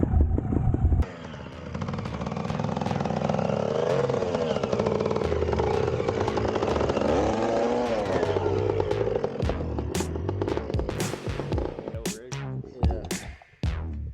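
A TRS trials motorcycle engine runs nearby with a rough revving drone that rises and falls, ending in sharp clattering knocks, with brief voices around it.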